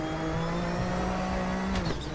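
A classic GTO race car drifts at Zolder in RaceRoom, its engine droning loud and steady with strong harmonic whine, ending in a short tire squeal as the car slides.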